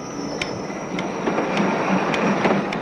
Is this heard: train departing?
yes